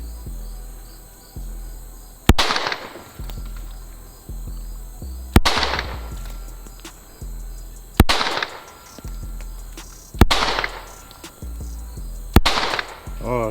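Pistol fired slowly at target pins on a range, five sharp loud shots spaced about two to three seconds apart, each with a ringing decay, against a background of chirping insects.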